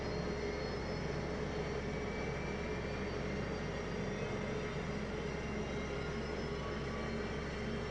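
A faint, steady jet engine whine with a low rumbling drone, holding evenly throughout and gradually building in intensity as an F-15E engine spools up in the DCS World flight simulator.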